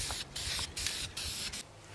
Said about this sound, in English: I used polyurethane spray this time